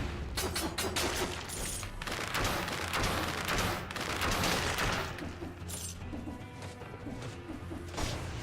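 Heavy turret in the Dead Cells video game firing a dense, continuous volley of rapid crashing shots, loud and close, with layered impacts and game music running underneath throughout.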